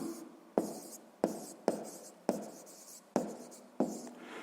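A pen writes down an answer to a sixth-grade maths exercise in a quiet room, making about six sharp strokes in an even rhythm, each one scratching briefly and fading. The writing is close and fairly soft.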